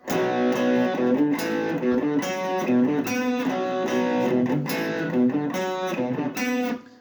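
A distorted electric guitar plays a power-chord riff alone without pinched harmonics, choppy repeated notes and short bursts with brief gaps, loud and up close.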